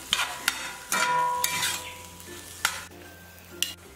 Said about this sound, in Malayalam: എല്ലാം കൂട്ടിയിട്ട് നന്നായിട്ടൊന്ന് മിക്സ് ചെയ്ത് കൊടുക്കാം